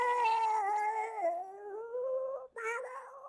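A voice imitates a cat's meow, drawn-out wavering mewing calls that slide in pitch, followed by a short break and a second rising meow, close and clear with no other sound.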